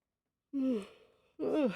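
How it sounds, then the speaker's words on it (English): A person gives a big, drawn-out yawn with a rising then falling voiced tone. A second breathy yawn-like exhale follows shortly after, close and alone against silence. "Big yawn."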